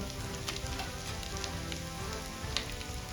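Cabbage added to a pan of ginger, garlic and green chilli paste sizzles and crackles continuously at close range, a dense, even hiss with scattered small pops, no voices.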